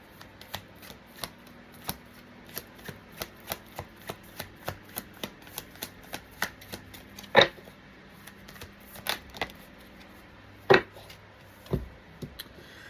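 Tarot cards shuffled by hand, a steady run of crisp riffling flicks and soft slaps at a quick even pace, with a few louder snaps, close up and without talk.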